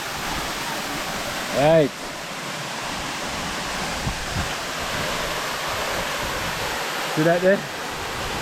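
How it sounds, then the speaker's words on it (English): Dark View waterfall on St. Vincent sends up a steady, close broadband roar of falling water throughout, with someone speaking briefly over it near the start and again near the end. "Water pitching up from there."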